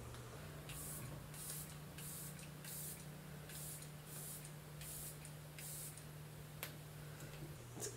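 Hourglass Veil setting spray fires a series of about eight short, fine mist bursts from a light pump in a steady rhythm, soft and close against a low steady hum, with no talking.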